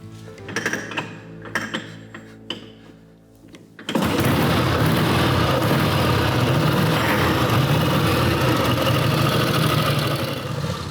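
An Indian motorcycle, flooded at first, has several clanking kick-start attempts. It then fires and settles into a loud, steady, close idle that runs unbroken to the end.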